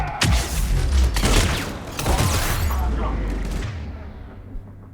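Scimitar shotgun blasts in the video game Mass Effect 3, a few heavy booming shots with rumbling echoes and clattering mechanical effects, fading into a low tail, while a person talks over them.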